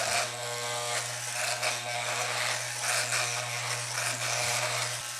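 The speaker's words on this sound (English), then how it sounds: "we're gonna do this with the clipper closed" Electric hair clipper with its guard closed at the shortest length, trimming a beard: a steady close buzzing hum with a constant low drone and faint textured rasping as it passes through hair.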